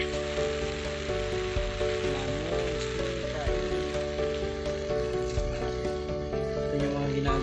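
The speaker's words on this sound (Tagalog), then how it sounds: "Nabutan pa kami ng ambon, no? Ulan pa." Steady rain pattering on a surface during an outdoor walk home, a dense continuous hiss with faint background sounds mixed in.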